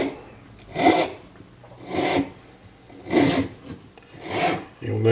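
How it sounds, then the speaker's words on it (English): A hand file works a scalloped metal spacer for a dagger in four long, even rasping strokes, each about a second, spaced evenly apart and close to the listener, with no talking. "You'll notice I don't use short little bursts of the file like this. I use long strokes."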